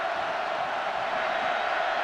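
A football stadium crowd at the 2010 Iowa vs Michigan State game gives off a dense, steady roar of voices without a break.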